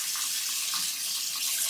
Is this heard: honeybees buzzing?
no